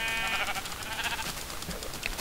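A video game sheep bleats in short wavering calls, clear and close, with no talk over them.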